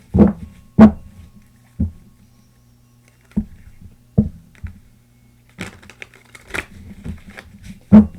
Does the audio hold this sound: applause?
no